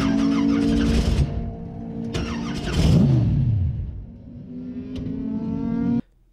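Hillclimb race car being fired up while its oil pressure gauge fails to rise. Close engine bursts sound in short surges with brief revs and sputtering, then cut off sharply at about six seconds.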